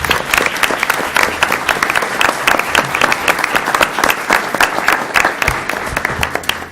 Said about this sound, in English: So a round of applause for all the great grant presentations.